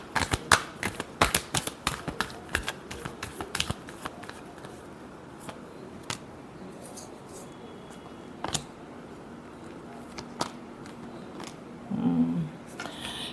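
Tarot cards being shuffled produce a quick run of crisp riffling snaps and flicks, dense at first and then sparser with short pauses, fairly close and quiet.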